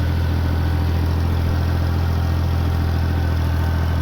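A tractor engine idles steadily in a field during round-baling with a New Holland BR7060 baler, a close, constant low throb with an even rhythmic chug throughout and no speech.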